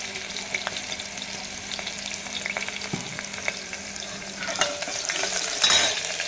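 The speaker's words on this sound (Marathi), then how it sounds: "चला आता हे छान असं टोमॅटो छान परतून घेऊया" Tomatoes with a pinch of asafoetida sauté in a pan for stuffed brinjal masala, a steady soft sizzle with occasional spatula clinks and scrapes, louder bursts of crackling near the end.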